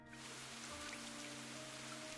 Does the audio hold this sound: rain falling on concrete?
yes